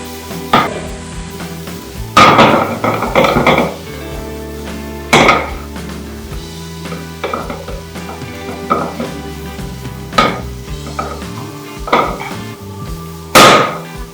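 Prawns being stirred with fish masala, coriander powder and pepper powder in a pan, with repeated sharp spoon-on-pan clanks and scrapes at irregular intervals over a low background hum.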